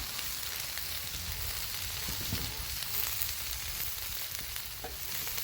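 Butter and onions sizzle steadily on a Blackstone flat-top griddle, a dense, even crackle with small pops, close and continuous with no voices.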